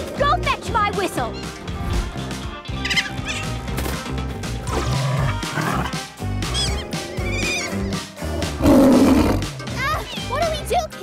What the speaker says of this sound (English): It's the lion. His roar is really loud